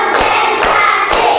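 Fourth-grade pupils in a classroom clap together on a count, three sharp, evenly spaced claps in unison, close and crisp against a steady room hum.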